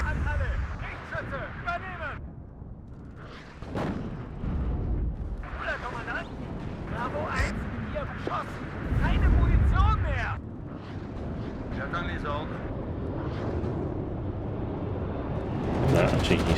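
Aircraft strafing run in the WARNO real-time strategy game, with bursts of booming cannon and explosion impacts mixed with game voice lines and a commentator talking over the battle noise.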